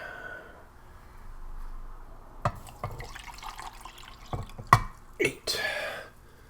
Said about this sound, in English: See if we can manage to get 12 ounces of water without spilling everything everywhere.